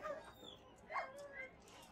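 A dog in the House On The Hill video game gives short, faint whimpering yips and a soft bark at a distance, brief bursts over a quiet game background.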